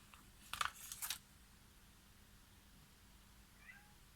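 A couple of sharp clicks ring out, then a quiet room, and near the end a single short, faint meow from a cat in the background.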